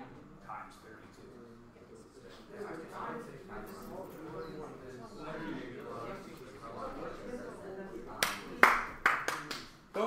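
Hands clap in a short burst of sharp, close claps near the end, after a stretch of quiet talking in a classroom practice session.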